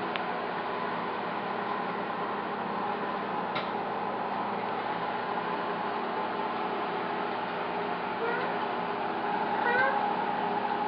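A cat meows a few times at close range over a steady background hiss, with faint clicking sounds near the end.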